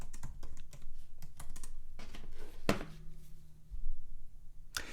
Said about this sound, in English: I'm going to click on connect, type in my password.